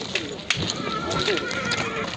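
A horse whinnies amid the bustle of a busy livestock market near Bishkek, with hoof clatter, crowd noise and people talking around it.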